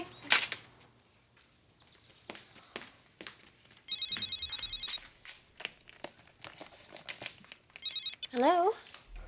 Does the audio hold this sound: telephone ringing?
yes